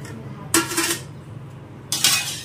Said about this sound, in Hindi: अब इसको हम एक छन्नी लगाएंगे बर्तन पे,